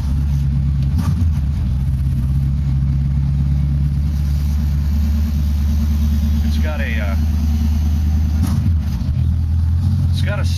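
A car with a C4 transmission and a 50s diner theme is running, producing a steady, loud, low engine rumble and idle throughout with no clear revving peaks.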